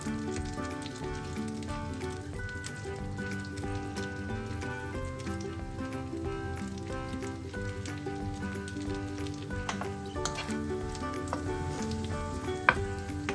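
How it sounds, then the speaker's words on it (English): Sausages fry in butter in a pan with a continuous, close crackling sizzle and scattered sharp pops and spits, steady throughout with no talking. "On the other side, I fried the other sausages in some butter"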